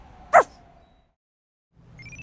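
A pink cartoon dog gives a single short, high yip, followed by a pause of silence and then faint background sound.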